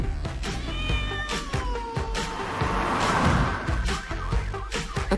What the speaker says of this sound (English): Imagine this moggy's surprise when it came face to face with its 100-kilo cousin, the mountain lion in America.